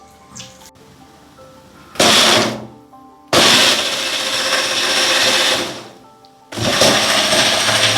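A kitchen mixer grinder crushes poppy seeds and ginger for Bengali aloo posto, running in three loud whirring bursts with short quiet pauses between them.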